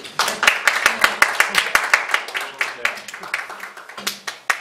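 Audience clapping at a church welcome party for new students, a rhythmic series of sharp, evenly spaced claps from many hands, fairly close and loud, with voices mixed in.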